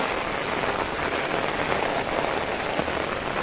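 Steady rain falls outdoors beside a road in Gujarat near a building site, a dense, even hiss of drops hitting surfaces with no voices.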